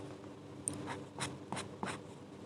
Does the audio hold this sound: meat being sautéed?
no